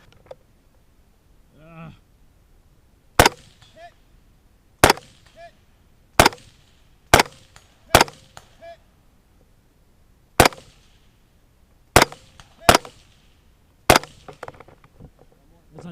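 Gunshots at a shooting competition at a sawmill-themed stage: nine sharp, loud single reports spaced irregularly over about eleven seconds, with shouted commands in between.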